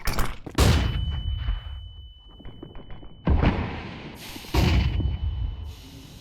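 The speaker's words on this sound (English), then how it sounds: "I'm throwing a flashbang." A flashbang grenade goes off in a first-person shooter with a sharp blast and a long ringing tone, followed by two more loud bursts of gunfire-like impacts. No one speaks.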